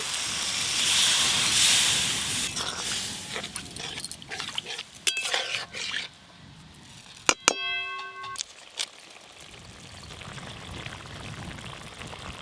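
Spiced gravy for a fish curry bubbles and hisses in a pan, a soft crackling simmer that fades in and out, broken by a few sharp metallic clangs and rings of a utensil.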